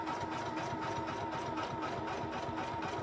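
A Poolin EOC06 sewing machine stitching a quilt, a steady, continuous mechanical whir with a rapid needle rhythm, close and constant throughout.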